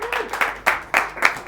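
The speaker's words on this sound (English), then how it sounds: "Nice round of applause for Zoe." Small audience at a mind-tricks stage show giving a short round of applause, a few scattered claps in quick bursts, close and moderately loud.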